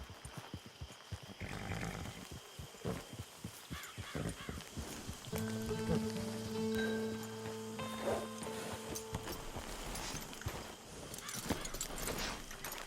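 Horse hooves clip-clopping in the video game Red Dead Redemption 2 on PS4, a fairly quiet rhythm of steps across the clip, with game music and a sustained tone partly masking them in the middle.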